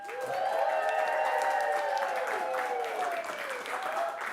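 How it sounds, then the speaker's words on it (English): Studio audience clapping on cue at a charity broadcast, a brief burst of applause with vocal cheering and whoops over it, fairly close and loud throughout. "I want you to give them a little applause, let them know that we're here."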